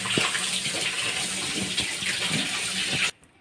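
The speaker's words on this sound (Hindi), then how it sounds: "अभी इसे धुलेंगे, हम लोग इसे अच्छे से वॉश कर लेते हैं।" Food washed under a running kitchen tap, a steady loud gush of water with splashing that cuts off abruptly at the end, and no voices.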